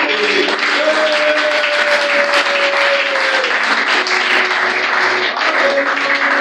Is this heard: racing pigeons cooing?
no